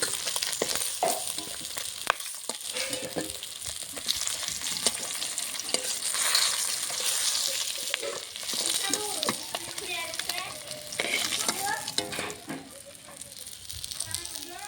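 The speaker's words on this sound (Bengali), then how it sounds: "বাকি মাছগুলো ভেজে নেব।" Fish frying in a pan until reddish-brown, with a crackling sizzle broken by scraping and stirring clatter from a utensil, close up and fairly quiet.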